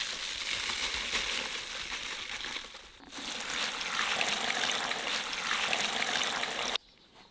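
Potting soil stirred into water in a 20-litre bucket gives a steady trickling, sloshing wash of liquid, close and continuous, with a brief dip near the middle and an abrupt stop just before the end.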